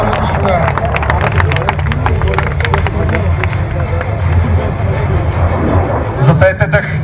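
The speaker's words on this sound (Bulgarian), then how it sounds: "Аплодисменти за генерала, дами и господа!" An outdoor airshow crowd applauds General Rumen Radev, who flies a MiG-29: dense, continuous clapping with loud crowd hubbub running the whole time, ending in a few sharper claps.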